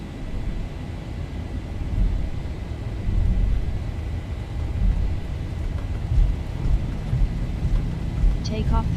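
Airliner engines spooling at takeoff thrust in a flight simulator on departure from Niederrhein, a deep, rumbling roar that swells and holds steady, loud and close throughout, with a brief faint chime near the end.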